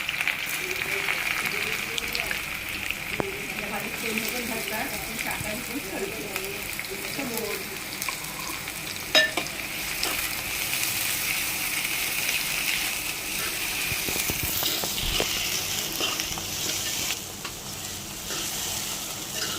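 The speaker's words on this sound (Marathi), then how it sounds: "त्यामध्ये तेलसुद्धा गरम झालेलं आहे. तर यामध्ये मी आता हे उभा लांब चिरून घेतलेले 4 कांदे घालणार आहे." Four lengthwise-sliced onions hit hot oil in a pan over a high flame to brown, giving a steady broadband sizzle throughout, with someone talking over the first half.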